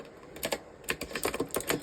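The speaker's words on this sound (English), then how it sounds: "Sorry about the clickety-clackety of my keyboard." Rapid, irregular clicking of computer keys being typed on, close and fairly quiet, with short bursts and brief pauses between keystrokes.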